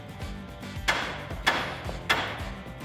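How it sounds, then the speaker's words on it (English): Three evenly spaced metallic hammer taps ring out on the steering knuckle of a 2007-2018 Silverado or Sierra 1500, dislodging the ball joint, each a crisp strike with a short ring and a brief pause between. "Now we can grab a hammer and start tapping on the side to dislodge the ball joint."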